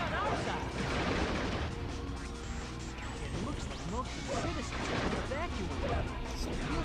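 Rapid gunfire blasts from the Shadow the Hedgehog video game, dense and continuous, crowded together with crashes, impacts and other busy game noise.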